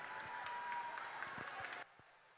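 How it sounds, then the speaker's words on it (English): Audience clapping for young swimmers at a CSA championship swim meet, a steady patter of applause lasting about two seconds before cutting off abruptly to faint room noise. "Let's give these swimmers a big round of applause."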